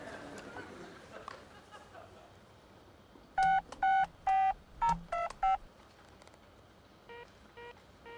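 Telephone keypad tones beep in a quick series of about eight presses, then three softer tones follow, heard in a room with faint conversation and background chatter.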